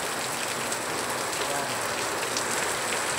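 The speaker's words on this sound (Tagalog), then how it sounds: "Ganyan kalakas ang ulan today guys" Heavy rain pours steadily, a dense, loud hiss of drops hitting surfaces with no break.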